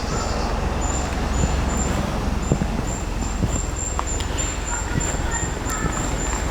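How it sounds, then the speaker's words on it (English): Birds chirp repeatedly in Broadoak Woods along the old Buckley railway line, over a steady wash of distant road traffic. "You can hear the birds tweeting."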